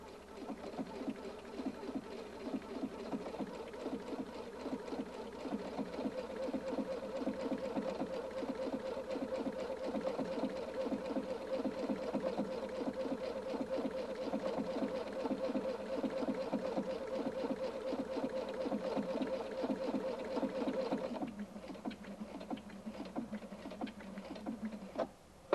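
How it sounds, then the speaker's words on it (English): A Husqvarna Viking Designer II sewing machine runs an automatic darning stitch back and forth over a tear in fabric. The rapid, even stitching chatter goes on for about twenty seconds, then stops. "This automatic darning stitch will stitch 12 times back and forth over the tear to repair it"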